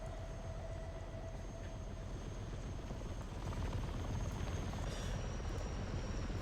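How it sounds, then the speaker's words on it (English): Military aircraft, Osprey tiltrotors and Harrier jets, fly overhead in the Warhammer 40,000 Darktide game, a steady heavy rotor-and-engine drone that swells a little louder midway, with no talk. "Ospreys! Harriers!"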